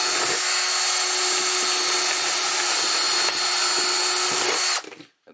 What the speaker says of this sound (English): Now I'm going to go ahead and drill a couple holes in the bottom.